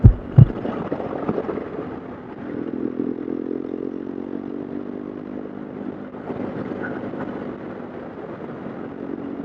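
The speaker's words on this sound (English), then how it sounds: "Oh, I love this motorbike." A 1968 motorcycle's engine runs steadily at close range with a low, even rumble, after a couple of sharp knocks at the start, and no talk over it.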